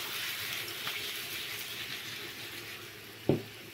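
Squid sizzling as it cooks in a pan, a faint, steady frying hiss throughout with one brief soft knock near the end.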